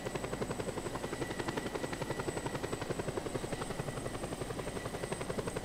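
A helicopter hovers close and loud, its rotor thumping in a steady fast pulse while it lifts a car slung beneath it on a rope, with no voices over the din.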